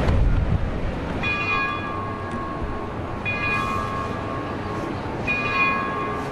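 A large bell at a historic courthouse in Henderson County tolls slowly, three ringing strokes about two seconds apart, each hanging in the air over steady outdoor rumble.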